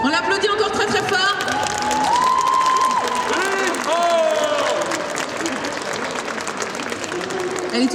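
A crowd at a cosplay contest show applauds and cheers a contestant, with sustained clapping, scattered whoops and excited high voices, loud and continuous across the whole stretch.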